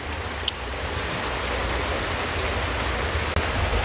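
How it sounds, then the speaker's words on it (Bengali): A sudden rain shower from a previously clear sky pours down as a loud, dense, continuous hiss nearby, with a couple of faint knocks and no voices. "এই যে হঠাৎ করে বৃষ্টি, মানে একদম ভালো আকাশ ছিল"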